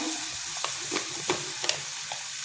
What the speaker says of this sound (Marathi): हळद, टाकून घेतल्यानंतर आपल्याला हे जरा असं परतायचं आहे